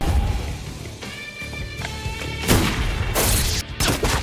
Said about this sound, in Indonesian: Aksi seru baku tembak antara Jack dan para penjaga gudang yang merupakan anak buah Bronson sedang berlangsung.